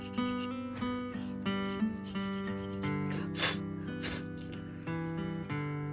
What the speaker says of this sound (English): So you can see how I clean that up with just that little bit of drywall screen.